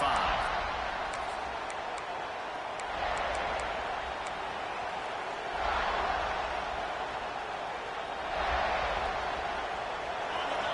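A football stadium crowd roars continuously, swelling in several waves over a steady broadband din, with an announcer talking over it.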